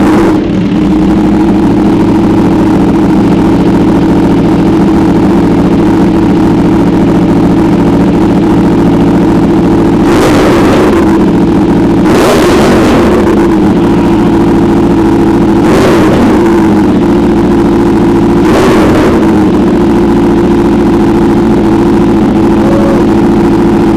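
An Aprilia Tuono motorcycle fitted with a new aggressive exhaust idles loudly and steadily up close, broken by four sharp throttle blips that rev the engine and quickly drop back to idle.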